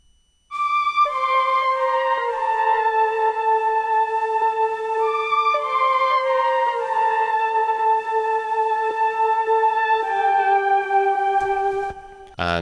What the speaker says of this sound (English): So the only new layer in the end of this intro is this synth string layer